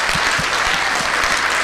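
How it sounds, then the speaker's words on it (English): Conference attendees clap warmly for their organizers, a dense, loud, continuous applause filling the whole short stretch with no voices. "can we just give a warm felt clap for our conference organizers?"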